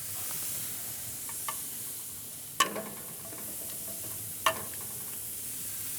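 Shrimp sizzling on a grill for tacos, a steady soft frying hiss throughout with a couple of sharp clinks as pieces are placed, close and quiet without talk.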